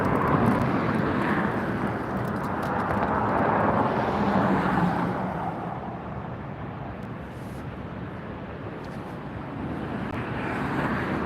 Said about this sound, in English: There's a landing for you.